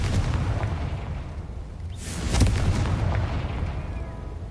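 Confringo explosion spell cast in Hogwarts Legacy: a steady, rumbling explosive roar that swells briefly into a louder burst around the middle, then settles back into a dense, booming background.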